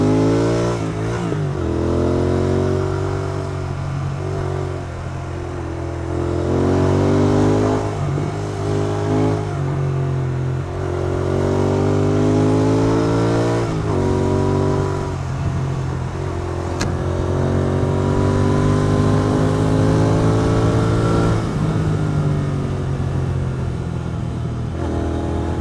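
A Royal Enfield GT Continental 650 motorcycle accelerates hard on a highway, its engine note climbing repeatedly through the gears in loud, close, rising revs with short dips at each shift, and no talk over it.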